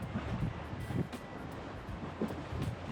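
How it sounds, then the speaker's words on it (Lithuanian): Strong wind blowing off the Curonian Lagoon toward the shore, a steady rushing roar with buffeting gusts against the microphone, with faint lapping water underneath and no voices. "Didelis vėjas pakankamai nuo marių pusės į krantą"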